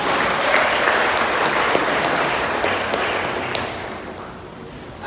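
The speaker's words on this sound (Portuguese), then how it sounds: "Você pode aplaudir o Senhor por isso?" A church congregation claps loudly during a sermon, sustained applause that gradually thins toward the end.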